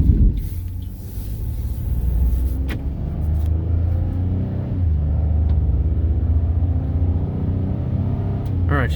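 Pickup truck towing a tractor pulls away on a smooth road, a steady loud engine rumble building under the road noise for the whole stretch.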